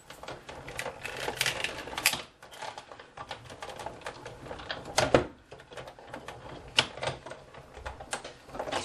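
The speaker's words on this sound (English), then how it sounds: "we're just going to run that through the big shot" A Big Shot die-cutting machine cranks a die-cut sandwich through, giving a run of quiet mechanical clicks and ratcheting clatters with a few sharper knocks, close and fairly faint.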